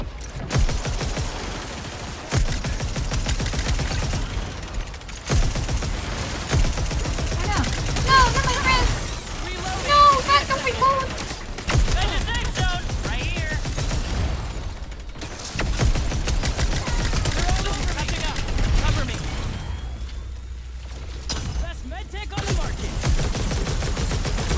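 Video game gunfire, loud bursts of rapid shooting mixed with game music and effects, with a voice talking over the action in places.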